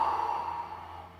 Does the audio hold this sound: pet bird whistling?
no